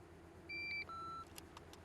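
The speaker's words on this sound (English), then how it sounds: "Please leave your emergency after the beep and I'll get back to you." An answering machine beep plays as two clear electronic tones, a short higher one followed by a longer lower one, over a low steady hum, then faint clicks.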